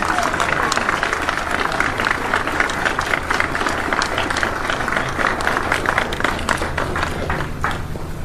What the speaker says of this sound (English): Give him a round of applause, will you?